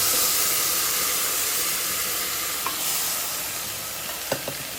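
Boiled vegetable pieces added to a sambar tempering with curry leaves in a pan, giving a steady loud sizzling hiss that slowly eases, with a few small clicks of stirring near the end.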